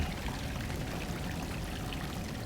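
Water pouring and trickling in the dark 2D action game Salt and Sanctuary, a continuous soft rushing stream with scattered droplet splashes, steady and fairly faint throughout with no voices.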